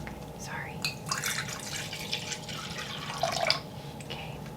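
Clean water trickles and drips into a tarantula's water dish, soft close splashes with a faint whispery hiss throughout.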